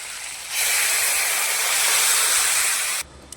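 Water hits potatoes frying in a pan and erupts into a loud, bright sizzling hiss that holds for about two and a half seconds, then cuts off abruptly.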